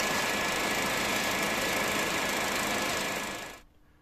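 The motor of an ELMO 16mm film projector runs with a loud steady whirring and rapid mechanical chatter, a constant hum that cuts off abruptly near the end.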